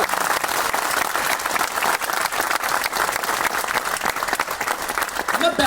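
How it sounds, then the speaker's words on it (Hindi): Sustained applause from a large audience at a speech event in Bhopal, dense steady clapping filling the whole stretch at a loud, even level. "एक बार मेरी तरफ से अपनी उस माँ के लिए ताली बजाओ"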